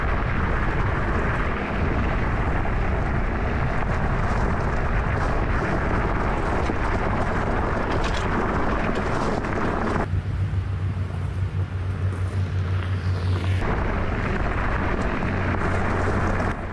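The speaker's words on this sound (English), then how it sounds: "it was a pretty bumpy ride down, and the suspension handled it well" A Coswheel T20 off-road commuter e-bike rolls down a steep, washed-out, bumpy hill, giving a steady loud rush of wind buffeting and rumbling road noise throughout, with no talking.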